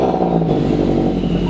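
A supercharged Subaru BRZ engine running after startup, a loud, close, steady rumbling drone with slight clatter and no revving swells.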